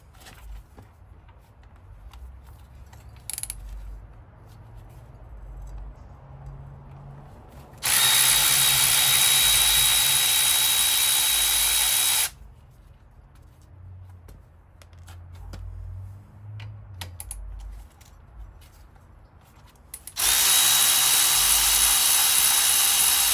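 Power tool bursts from a swivel socket removing the front brake caliper bolts on a Honda TRX500 Foreman ATV, two loud sustained runs of several seconds each separated by quieter handling noise, with no talk.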